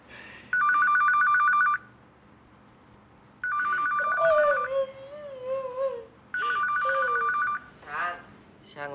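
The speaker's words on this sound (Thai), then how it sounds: "ช่างรับโทรศัพท์ก่อนก็ได้นะครับ" A telephone rings in three separate bursts, a bright repeating electronic trill, while people talk and cry out between the rings.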